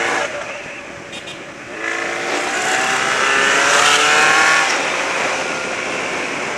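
Revving engine of a pink metallic Kawasaki KLE 621 B-King motorcycle, a steady loud roar that swells in the middle with rising and falling pitch, heard alone at close range.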